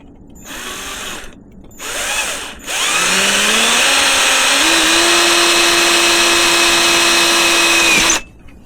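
A power drill bores holes in a vehicle frame, close and loud. Two short revving bursts come first, then a long continuous run whose pitch climbs and holds steady before it cuts off.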